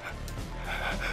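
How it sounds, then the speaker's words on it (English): A video game character pants like a little dog, quick breathy puffs running steadily through the short moment at moderate loudness, with no talk over it. "after he's done panting like a little dog"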